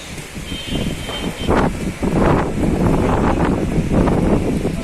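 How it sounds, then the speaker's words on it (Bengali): Strong gusts from Cyclone Remal tear through coconut trees in Dhaka, a loud, continuous roaring rush with surging bursts and heavy buffeting on the microphone. "এই যে বাতাসের প্রচন্ড গতিবেগে বাতাস প্রবাহিত হচ্ছে, নারকেল গাছ মনে হচ্ছে এই বুঝে ব্যাক হয়ে যাবে।"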